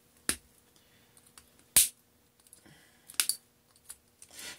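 Sharp snips of cutters clipping a component lead during soldering work on a series bulb rig, a few isolated crisp clicks spaced across a quiet bench with faint handling noise between them.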